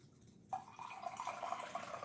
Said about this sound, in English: Let me pour the tea.